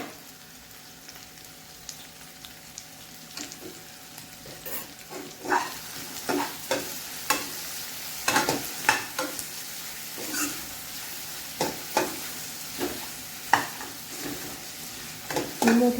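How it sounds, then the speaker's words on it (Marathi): Onion with a pinch of salt fries in a pan over a high gas flame: a constant sizzle grows louder partway through, punctuated by regular scraping stirs that repeat every second or so. "मी मोठा गॅस करून घेते जेणेकरून कांदा पटकन भाजेल."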